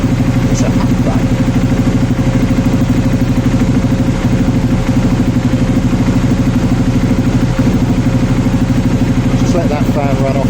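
An Aprilia Shiver 750 motorcycle engine idles with its cooling fan running, making a loud, steady, close-up drone with a constant mechanical hum throughout.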